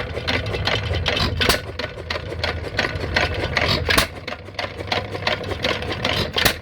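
A 100-year-old hit-and-miss engine runs with missed cycles, giving an uneven mechanical clatter: bursts of firing strokes separated by lighter, irregular ticking gaps, close and fairly loud, with no talk.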